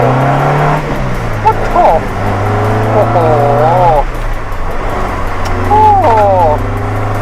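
A Honda CRX pulls hard in first gear, its engine note climbing in pitch through repeated rising sweeps. The drone stays loud and close, heard from inside the car, while people talk and exclaim over it.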